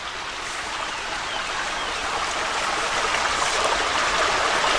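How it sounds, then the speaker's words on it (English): A creek runs past the old stone blocks of a ruined Union Canal lock, making a steady, close rushing and babbling of water that holds evenly throughout with no voices. "There's a creek that runs right through here."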